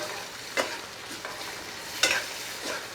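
Chicken jalfrezi being stirred as it fries in oil in a pan, with a few distinct scraping strokes of the spoon over a steady sizzle and no talking.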